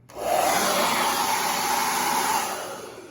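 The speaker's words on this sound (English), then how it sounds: "you're going to take a hair dryer, put it on the cool setting" A hair dryer on the low, cool setting blows with a steady, even whoosh after a quick start, drying a hedgehog, running continuously at a moderate level before easing slightly at the end.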